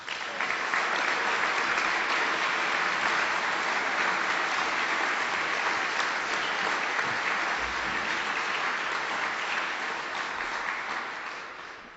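Steady, sustained audience applause at an award ceremony, a dense wash of many hands clapping continuously for about twelve seconds with no talk, fading slightly at the close.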